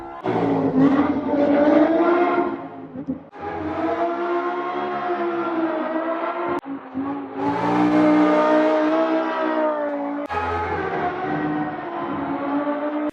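Lamborghini Huracan Performante mod, 62 kilos lighter than the original, driven in the Assetto Corsa racing game: a loud, steady engine note rises and falls through several gear changes, revving continuously with no talk.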